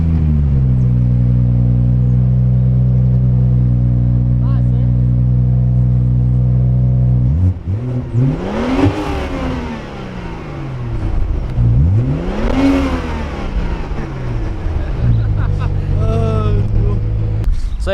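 BMW M140i straight-six idling with a steady deep drone, then revved hard twice, each rev soaring up and falling back, loud and close with voices speaking briefly around it.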